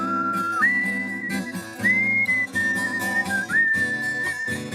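A man whistles a bright, wavering melody over guitar in a recorded song, the whistle sliding between sustained notes above a steady strummed and rhythmic backing.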